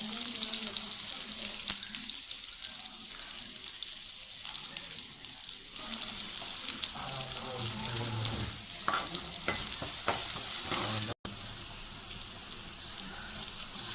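Three small-chopped onions frying in a pan for a village-style brinjal kara kuzhambu, giving a steady, close hiss of frying with occasional scraping stirs and one brief break near the end.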